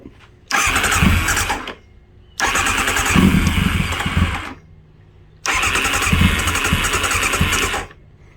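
A revived Kawasaki ZX9R motorcycle engine cranks and fires in three separate bursts, each a loud, close rough running spell of a second or more cut off by near-silent pauses, running on a makeshift fuel supply.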